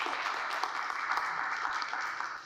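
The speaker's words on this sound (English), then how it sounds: "I'm going to ask that we not clap between speakers" An audience at a county board of health public meeting breaks into steady applause, a dense wash of many hands clapping that holds for a couple of seconds and begins to fade at the end.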